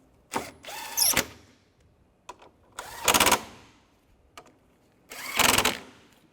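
A power tool tightens screws on the front bumper of a 2004-2010 BMW X3, with three separate loud mechanical whirring bursts spaced apart and short clicks between them, up close and with no talk.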